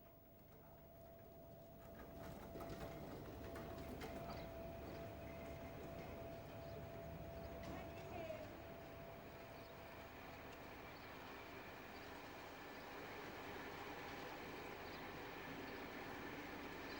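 A British Rail Mark III-based passenger coach showpiece with deeper windows and plug doors runs steadily along the track, a continuous rumble and rolling wheel noise with a faint thin whine, heard at a distance.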